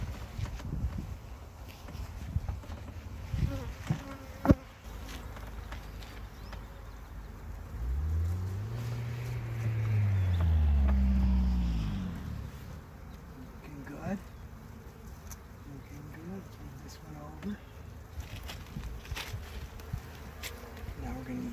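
Honey bees buzz around an open hive frame being lifted from the comb, with a steady low drone throughout, a louder swelling buzz in the middle and scattered handling knocks.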